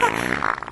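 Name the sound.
fart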